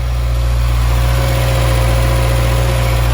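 A newer Subaru DIT engine fitted with an HKS air filter idles steadily up close, a loud, even low rumble with a constant hum and no talk.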